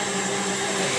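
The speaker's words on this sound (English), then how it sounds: "Let's get it going on high. Let's show this mixer who's boss." An electric mixer running on high speed while whipping cream, giving a steady, loud motor whine with a continuous hum and no break across the moment.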